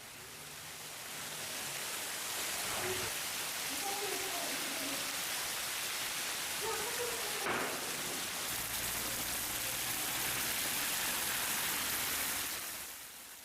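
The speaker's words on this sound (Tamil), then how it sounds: "பல பகுதிகளில் பலத்த காற்றுடன் கூடிய கனமழை பெய்தது" Heavy rain with strong wind across several areas of Tamil Nadu, a dense continuous hiss of downpour that swells in and stays steady, with low rumbling gusts in the background.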